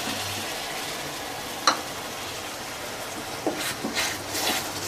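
Tomato puree fries for shahi paneer with a soft, even hiss, marked by one crisp utensil tap early on and a few gentle stirring scrapes toward the end.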